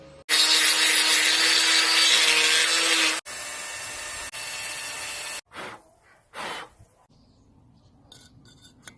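A power tool cuts through a wrongly welded steel bolt on a gas forge built from an old propane tank: a loud, steady abrasive whine for about three seconds, then a lighter grinding pass and short bursts.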